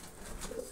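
Pigeons arriving and landing in the evening give a brief low coo, heard close over a steady outdoor background with no talking.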